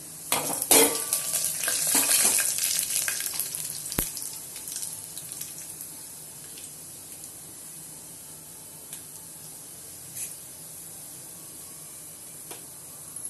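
Garlic and chillies frying in a pan for a pulichai keerai dish, with sizzling and stirring loudest over the first few seconds, then settling to a quiet, steady low sizzle with occasional faint clinks.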